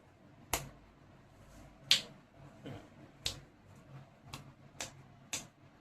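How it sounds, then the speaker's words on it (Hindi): Seven crisp finger snaps in a quiet room, evenly spaced about one per second, each a short, dry click standing alone with no talking. "चुटकी बजाई ना"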